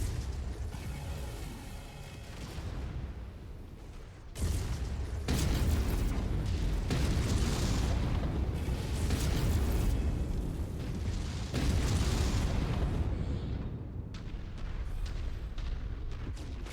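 Enemy mech in MechWarrior 5 blowing up in heavy rumbling blasts, loud and close, with repeated booms and crashing bursts over several seconds that trail off into fainter mechanical clatter.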